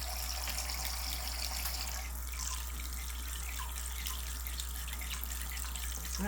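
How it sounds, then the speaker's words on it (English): Faucet water runs steadily into a sink while pet birds bathe in the stream, a continuous splashing rush with a constant low hum beneath it and no talk. "Just get right on in the faucet water?"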